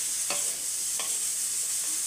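Chicken masala with capsicum being stirred in a pan, a soft continuous sizzle with a few brief scraping strokes of the spoon, close and quiet, no voices.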